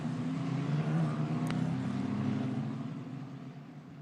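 Italian F4 race cars at Monza give a steady, buzzing engine drone that swells and then slowly fades as they pass at a moderate distance, with no talking.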